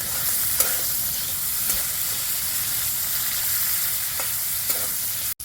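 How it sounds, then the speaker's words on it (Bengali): Cashews and raisins fry in ghee with a steady, bright sizzle that runs throughout, broken by a few soft stirring clicks and a sharp clack near the end. "কাজু আর কিশমিশটা ঘিয়ে ভেজে নেব।"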